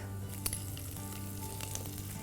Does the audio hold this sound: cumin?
yes